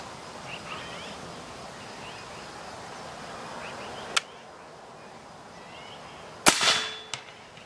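Benjamin Pioneer Airbow arrow gun fired outdoors at a 65-yard target: a sharp crack with a brief hiss, then a louder burst and a thud a moment later as the arrow strikes, over steady insect and bird ambience.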